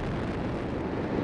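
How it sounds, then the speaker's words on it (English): Space shuttle Atlantis lifting off on its final launch, STS-135, three main engines at full thrust: a massive, continuous crackling roar filling everything from deep rumble to hiss, loud and unbroken for the whole stretch. "All three engines up and burning. 2, 1, 0, and liftoff! The final liftoff of Atlantis"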